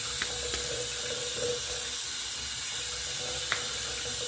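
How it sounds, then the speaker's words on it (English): Water runs and splashes at a sink as a face is wetted before a straight-razor shave, a steady faint wash with a few soft splashes and drips, no talking. "get some water in the face"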